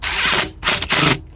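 A power nut driver whirs in three bursts, the first long, then two shorter runs, close and loud, spinning a bolt in during house renovation work on wood rot.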